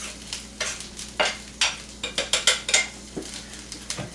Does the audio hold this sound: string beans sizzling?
yes